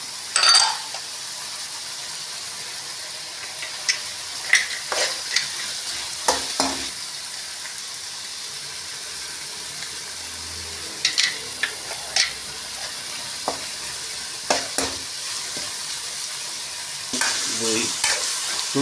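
Tomatoes and green chillies fry in a pan with a steady, fairly loud sizzle, broken by repeated scraping stirs and occasional clinks of a spoon against the metal, with no talking.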